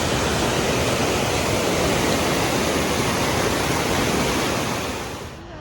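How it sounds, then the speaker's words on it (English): A waterfall in a Norwegian fjord roars as a loud, dense, continuous rush of water, steady throughout and easing slightly at the end. "we're in a fjord by a waterfall"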